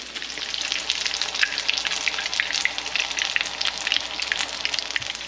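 Fish and chips frying in hot fat outdoors as rain falls on it, a dense continuous sizzle and crackle with scattered sharp pops, close and fairly loud.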